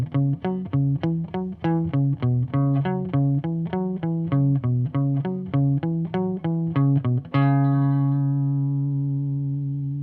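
A bass line, played on electric guitar as a two-hand coordination exercise, comes as a steady run of short, evenly pulsed plucked notes, then one final note rings out and slowly decays.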